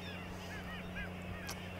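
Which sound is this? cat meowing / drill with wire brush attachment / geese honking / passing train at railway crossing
geese honking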